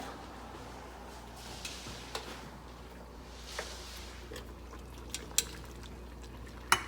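Garlic chicken for pollo al ajillo sizzling in a pan as it is stirred, a quiet, steady bubbling hiss broken by a few light scrapes and clinks of a utensil against the pan.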